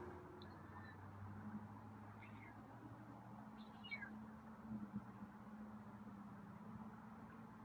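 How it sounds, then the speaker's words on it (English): A feral cat gives a few quiet, faint meows, rising and falling in short calls over a steady low background hum, with a person talking softly in between. "it's kind of a quiet meow."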